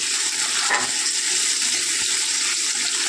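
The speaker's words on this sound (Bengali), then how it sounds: "এবার এখানটায় দিয়ে দেবো একটা মিডিয়াম সাইজের টমেটো কুচি দিয়ে এবার এটাকে আবারও ভালো করে নাড়াচাড়া করবো" Chopped medium tomato being stirred into browned onion slices frying in a pan, a steady close sizzle with light stirring scrapes throughout, no talking.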